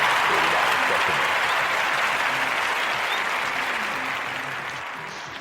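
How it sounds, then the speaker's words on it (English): Sustained, thunderous round of applause from a crowd, dense clapping roaring steadily then slowly tapering off, loud and close. "a sustained, thunderous round of applause"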